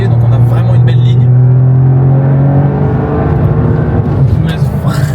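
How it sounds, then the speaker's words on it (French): A Toyota GR Yaris three-cylinder engine with a changed muffler and tips revs loudly up close, a deep droning note rising and settling over several seconds. "Je vous laisse vraiment profiter du caractère moteur et du son que produit ce 3 cylindres qui est ultra gratifiant."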